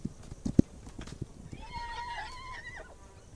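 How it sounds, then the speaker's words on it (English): Horse in the video game This Land Is My Land, a few sharp hoof clops early on followed by a clear whinny, moderately close, with no talk over it. "Cause he's on a horse."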